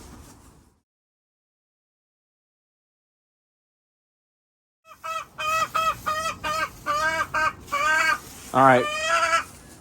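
Poultry in a backyard coop calls out in a run of loud honking, squawking cries after a few seconds of silence, close by, with a brief spoken word mixed in.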